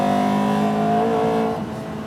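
A small, front-engined car with an aggressive engine gives out a loud, sustained engine note whose pitch wavers slightly before easing off near the end. It is heard up close, with no talking.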